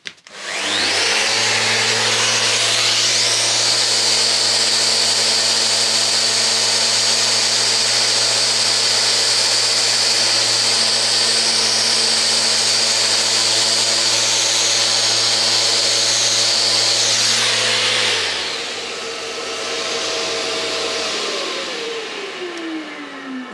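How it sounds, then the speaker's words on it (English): A power sander grinds steadily over filled patches on a cottage ceiling, loud and close, running continuously for about eighteen seconds before winding down to a lower hum. "what I'm doing here is just sanding down all the bits that we've filled"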